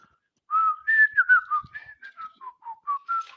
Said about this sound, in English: You've been whistling a lot more lately, and it just blew out my ear.